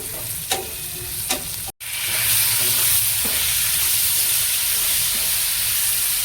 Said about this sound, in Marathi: आता आपण टोमॅटो घालूया।